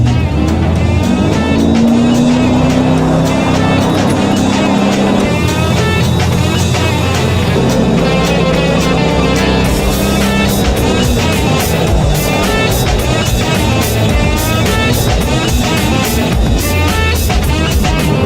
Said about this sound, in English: blasting over the water in a 420 horsepower jet boat